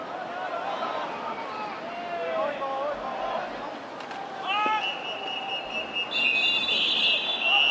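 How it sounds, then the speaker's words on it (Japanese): At an American football game, a referee's whistle sounds in short chirps followed by a longer shrill blast. It cuts through a distant crowd murmur with a voice talking underneath. "ここでホイッスルが吹かれています。"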